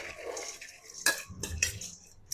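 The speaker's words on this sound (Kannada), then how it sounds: "ಸೊ ಇವಾಗ ಹೆಸರು ಕಾಳು ಹಾಕ್ಕೊತಿದ್ದೀನಿ" Soaked, washed green gram (moong) tipped into a cooking pot for kaalu usli, giving a few short clattering knocks and a soft scattering rustle, close and fairly quiet with no talk.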